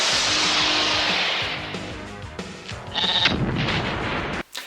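Sheep bleating in the splatter comedy film Bad Taste, a loud, steady wavering cry amid layered film soundtrack noise, with a brighter burst near the end.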